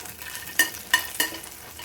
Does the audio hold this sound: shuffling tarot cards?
no